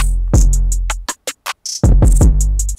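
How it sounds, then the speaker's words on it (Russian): Crisp, rapid hi-hat ticks in a hip-hop beat built in FL Studio 20, rattling over a deep booming 808 bass and kick, with brief gaps where the beat drops out before it returns. "Такой вот звук там, вот такие хэты."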